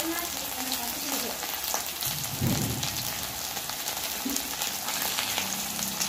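Spice and coconut paste sautéing in a pan, a steady close sizzle with crackling spatter and occasional stirring scrapes, a faint voice briefly underneath.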